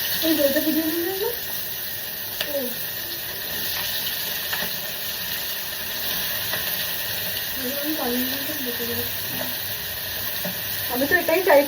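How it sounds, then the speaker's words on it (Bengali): Onions fry in a pan in a home kitchen with a continuous soft sizzle and occasional stirring clinks. A voice chatters over it, and the sizzling gets louder toward the end. "পেঁয়াজটা কেমন ভাজা হচ্ছে"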